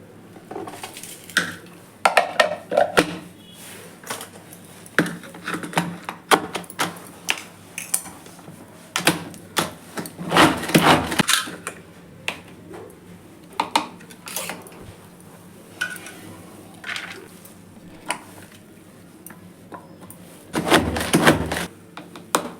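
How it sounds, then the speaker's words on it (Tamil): Hand-pressed chopper working through onions and tomatoes, irregular bursts of clattering plastic-and-blade clicks and knocks in quick repeated presses, with brief pauses between, close and fairly loud. "இப்போ இந்த சாப்பரில் அது போட்டு நல்லா நம்ம ப்ரெஸ் பண்ணிட்டோமா பொடி பொடி ஆகிடும்."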